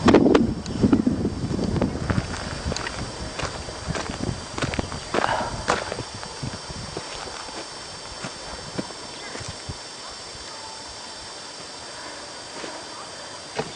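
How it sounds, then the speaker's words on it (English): Horse hooves clop steadily on a dirt trail in Moore Creek Preserve, loud at first and then softer, with light wind noise throughout. "The horses are now meandering up the trail"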